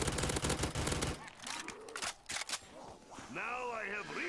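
Rapid bursts of gunfire from a zombies video game weapon, loud automatic rattle at first, then scattered shots and game effects with a voice speaking over them.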